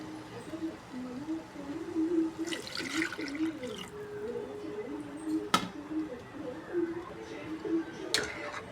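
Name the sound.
hot water poured into chicken curry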